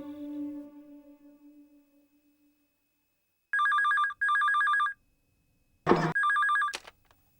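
An indoor telephone rings in sharp electronic bursts: two rings, a short pause and a click, then a third ring. Each ring is clear and loud, following a fading musical tone.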